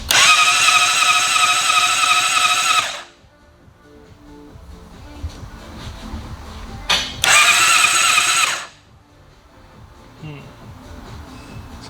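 A Honda CBR600RR motorcycle from a totaled bike being rebuilt cranks over in two loud bursts of about three and a half seconds, split by a quieter gap with faint handling noise, without catching.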